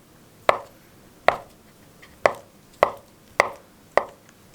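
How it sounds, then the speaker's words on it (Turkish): Boiled eggs chopped with a knife on a cutting board for a stale-bread recipe, six sharp distinct knocks at a slow uneven pace, close and clear with a quiet background and no talk. "Şimdi de haşlanmış yumurtalarımızı doğruyorum."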